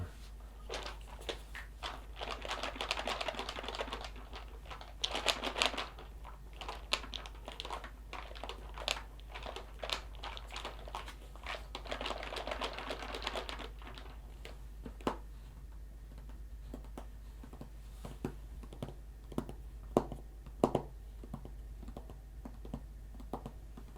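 Plastic game pieces from Command and Colors Napoleonics are handled in a plastic storage container, making close, quiet clicks, rattles and brief clattering bursts that thin out to sparse taps near the end.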